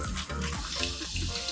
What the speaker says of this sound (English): If I run the hot tap, you'll see that it fires up to indicate the water's running